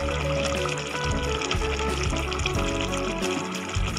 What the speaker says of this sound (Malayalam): കുറച്ച് വെളിച്ചെണ്ണയും കൂടി നമുക്ക് ഒഴിക്കാം.